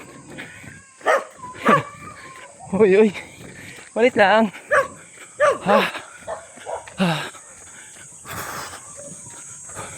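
Several dogs bark and yelp in bursts, near and far, while people talk briefly over a constant high insect drone outdoors in Isla, San Carlos City, Pangasinan.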